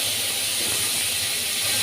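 Mixed vegetables hit hot oil tempered with black cumin in a vegetarian dish, giving a loud, dense, continuous hiss of sizzling for a brief moment, close up with no talking.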